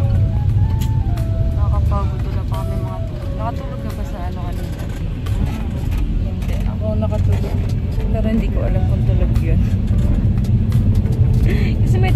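Van engine hum and road rumble heard from inside a moving van, a steady low drone throughout, with a voice talking over it and some melodic tones near the start.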